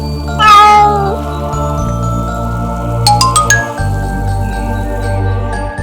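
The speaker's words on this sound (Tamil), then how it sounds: "மறுபடியும் அந்த பூனைக்குட்டி சோகமாயிடுச்சு" A cartoon kitten gives one loud, plaintive meow near the start. Soft musical tones and a few light tinkling chimes continue underneath, with no speech.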